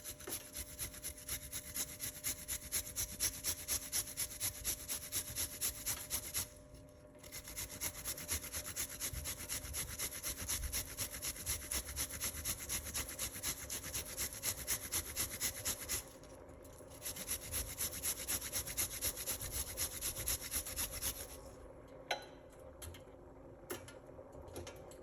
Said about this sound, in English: We're gonna grate a piece of a ginger.